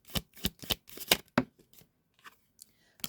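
Tarot cards being shuffled and drawn by hand, a quick run of crisp riffling flicks followed by a few softer slides and taps, close and quiet with no talking.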